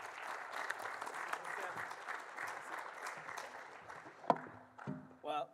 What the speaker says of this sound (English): So please welcome him with a round of applause.